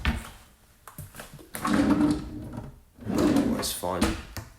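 A worn wooden drawer in a rented flat slides open and then shut, each motion a loud rumbling scrape lasting about a second, separated by short pauses, close by.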